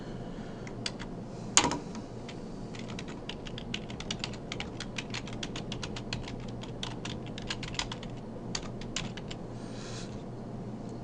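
Fingers typing on a computer keyboard, a quiet steady patter of fast key clicks with one sharper knock early on, close and alone over faint room hiss.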